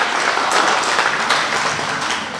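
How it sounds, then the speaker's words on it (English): An audience at a school award assembly claps for the award winners, a dense, steady burst of applause filling a hall. "Give them both a great clap."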